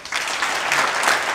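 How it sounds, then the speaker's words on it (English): An audience at an anti-racism community event claps steadily and fairly loudly to welcome a former professional footballer. The applause is brief and continuous, with no talking audible. "Please give a big, big round of applause to Chris Awolumo"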